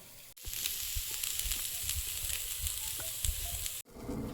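Vegetables with beans and cabbage frying in a wok, a steady close sizzle with scattered utensil clicks, briefly broken by a short gap near the end.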